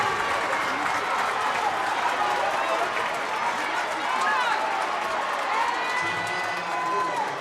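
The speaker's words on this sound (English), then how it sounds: "hear this crowd come to life" A high school basketball crowd at a Peoria High versus Metamora state playoff game roars and cheers during a timeout, loud and sustained with whoops and shouts over a continuous din.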